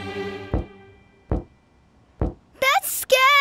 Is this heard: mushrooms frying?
no